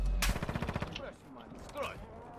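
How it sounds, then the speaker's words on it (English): A sharp gunshot cracks out in Warzone 2.0, followed at once by a rapid burst of repeated shots that fades, with a faint voice nearby and quieter game sounds after. "Somebody just popped a shot at us"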